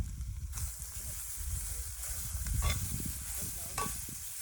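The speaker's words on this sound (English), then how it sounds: "So I just emptied it all out of my foil into my pan one more time, just to give it a good mix." Food being stirred and mixed in a pan over a camp stove in the Lincoln National Forest, with scraping and a soft sizzle running steadily under outdoor background noise, close by.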